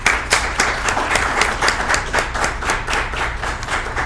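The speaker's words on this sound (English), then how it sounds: "Let's give a round of applause for everybody." An audience at an essay contest award ceremony claps steadily for about four seconds, dense and sustained at an even level, with no talking over it.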